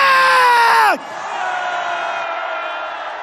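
A crowd at a candlelight citizens' rally lets out a loud, sustained collective shout that breaks off sharply after about a second, followed by a steady wash of crowd noise and cheering.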